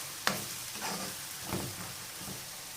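Ingredients for aloo matar sizzle softly as they fry in a pan, with a faint steady crackle and a few scraping stirs.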